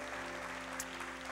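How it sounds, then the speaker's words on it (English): An audience claps in welcome for a panel at a public forum, a faint, steady patter of applause with a low hum underneath. "Let's clap our hands one more time and welcome our panel."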